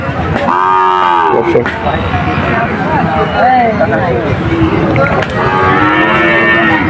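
Cattle and young bull calves moo loudly and repeatedly at a busy cattle market, with long, deep lowing calls that overlap the constant chatter of the crowd.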